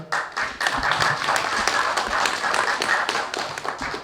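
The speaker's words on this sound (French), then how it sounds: "Je vous demande de l'applaudir, s'il vous plaît." Congregation clapping for the pastor in church, a brisk stream of overlapping hand claps at a steady level, close and lively throughout.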